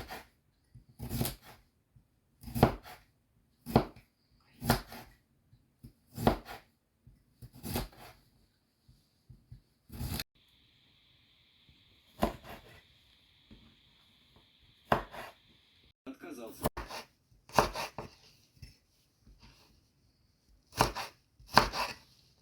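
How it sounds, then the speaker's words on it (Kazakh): A knife chops cucumber on a board in a home kitchen, steady sharp thuds in quick bursts, close and loud, with a brief hiss partway through. "Енді қиярымызды осылайынша турап аламыз."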